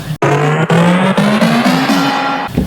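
A tape-start effect: a loud sound winds up in pitch in stepwise surges, rising steadily as if a reel speeds up.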